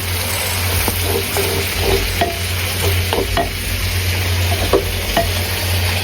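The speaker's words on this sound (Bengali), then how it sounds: "মশলাটা কষানো হয়ে গেছে মানে আদা রসুনটা ভাজা ভাজা হয়ে গেছে এখন আমি পানি দিয়ে দিলাম অল্প পরিমাণ" Ginger and garlic spice paste cooking in a clay pot for chicken, a loud close sizzle with scraping stirs and a low steady hum, as a little water goes in; no voices.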